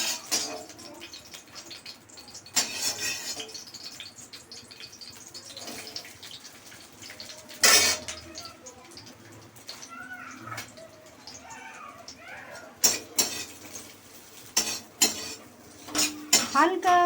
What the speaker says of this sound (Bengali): এটা আমি কড়াতে একটু ভেজে নেবো, মানে হালকা ভেজে নেবো